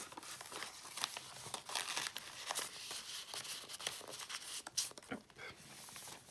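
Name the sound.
paper being crinkled and folded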